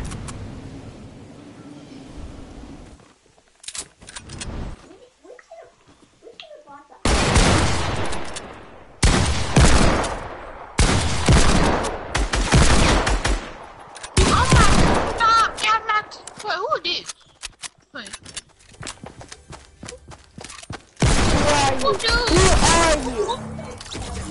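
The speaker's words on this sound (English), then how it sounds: "I'm using a deagle and a hunt rifle." Desert Eagle pistol shots and hunting rifle fire in a video game ring out in loud, repeated bursts of gunfire with brief pauses between volleys, and a voice can be heard talking along with the shooting.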